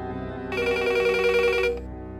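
A telephone rings close by in a tense dramatic scene. A short electronic ringing tone with a bright buzzing texture sounds for about a second over a low sustained background drone.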